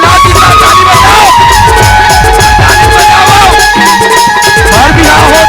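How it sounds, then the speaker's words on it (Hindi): Audience at a live Chhattisgarhi comedy show clapping and cheering, a loud, dense wall of applause and shouting that runs continuously throughout. "चिल्ला चिल्ला ताली बजाओ"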